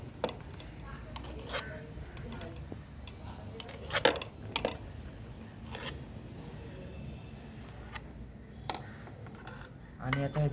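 Wheat kurdai dough is packed into a sorya press: scattered metallic clinks, taps and scrapes, close by, with one sharper knock partway through and a soft background hum.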